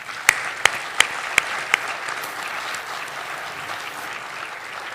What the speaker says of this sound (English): Please join me in a round of applause for all these deserving nominees.